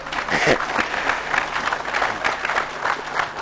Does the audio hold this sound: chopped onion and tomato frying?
no